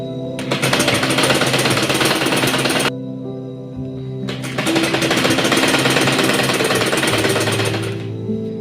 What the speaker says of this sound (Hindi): और अब हम इसे सिलाई लगा लेंगे